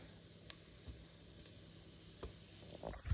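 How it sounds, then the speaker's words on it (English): Butter melting in a pan with onion and beef for a casserole, a faint soft sizzle with a few light clicks of stirring and a louder scrape at the end, no talking. "Then we're going to add 3 tablespoons of butter."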